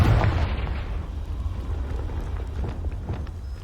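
A Confringo fire-blast spell exploding in Hogwarts Legacy, a loud boom at the start that decays into a rumbling, crackling tail with faint scattered pops.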